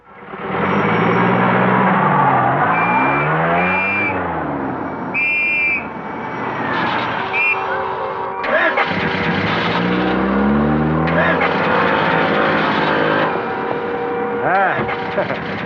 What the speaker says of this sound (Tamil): என்னங்க வண்டி செல்ஃப் எடுக்கலீங்களா?